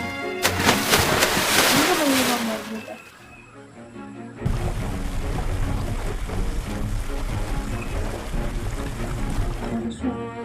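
A boat sails across water in the Roblox game Blox Fruits, giving a dense, steady wash of game sound with a continuous rushing layer and a brief dip midway.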